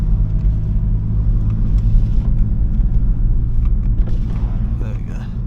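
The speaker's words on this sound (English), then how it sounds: "You won't be able to hear the car much if they're open." Steady low engine rumble of a 2019 BMW M4 Competition driving on a road, heard from inside the cabin as a continuous, fairly loud drone with no talking.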